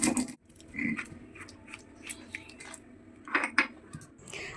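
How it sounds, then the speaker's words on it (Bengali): White mustard and poppy seeds are ground on a traditional stone slab for a Bengali fish curry, with irregular close scraping and knocking strokes and a few sharper clacks, no voices over them. "এবার এটা সিলে বেটে নেব"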